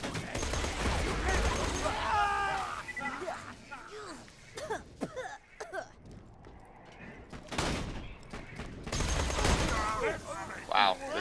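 Gunfire from an acid gun in Borderlands 2 crackles in repeated bursts, loud and close, through the start and again near the end, mixed with game effects and spoken commentary.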